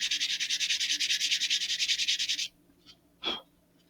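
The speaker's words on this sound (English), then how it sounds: "I'm going to just sand over just very quickly and gently the seam" Sandpaper is rubbed quickly back and forth over the seam of a model rocket fin on an Estes Super Vega build, making about two dozen rapid, even rasping strokes close by, then stopping; a brief breathy sound follows.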